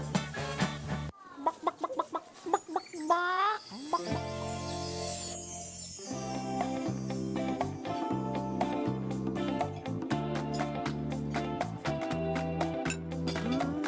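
A chicken clucks and crows in a TV advert for chicken essence, with loud repeated clucks and a rooster call over a busy, rhythmic music bed.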